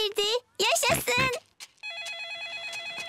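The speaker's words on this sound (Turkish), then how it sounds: "Baba domuzun cep telefonu çalıyor." In a children's cartoon, voices speak briefly, then a mobile phone starts ringing with a bright, repeating electronic ringtone that continues steadily to the end.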